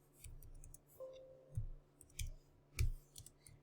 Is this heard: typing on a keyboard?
yes